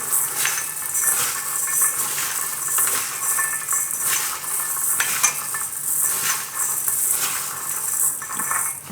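Seven kinds of grain and corn kernels for khichdo being stirred and mixed by hand in a vessel, a steady rustling, rattling churn with rhythmic scraping strokes, close and fairly loud, with no talking.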